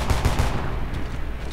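A heavy gun fires in the Homefront multiplayer shooter, a quick burst of deep, loud booming shots early on that fade into a dense rumbling tail, with no talk.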